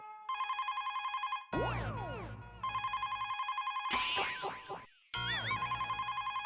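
Telephone bell ringing indoors in a home, repeated electronic trilling rings in bursts, with short musical stings cutting in between.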